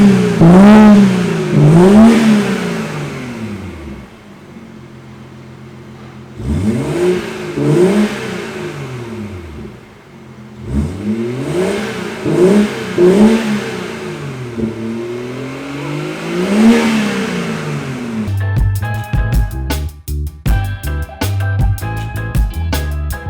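A BMW B58 engine with a muffler-delete exhaust revs hard in repeated rising and falling sweeps, loud and close, with short pauses between bursts, then a different steady drone closes the sequence.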